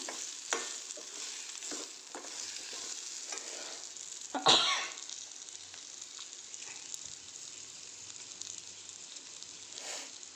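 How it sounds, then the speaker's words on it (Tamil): Baby potatoes fry in a pan with a steady broadband sizzle, stirred by a utensil that makes soft periodic scrapes, plus one louder knock or clatter near the middle; no one speaks. "அப்படியே சிறிது நேரம் குக் ஆகட்டும்."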